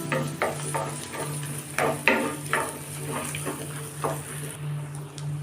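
Ingredients for Pallipalayam chicken sautéing in a pan over low flame, with a spatula tapping and scraping the metal in an uneven rhythm over a steady low hum and a faint sizzle.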